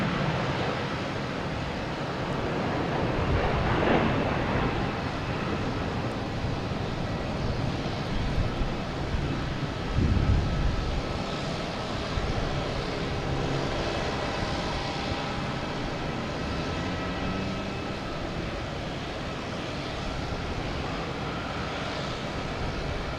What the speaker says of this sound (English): And we got Delta taking off to Atlanta. A321, flight 322.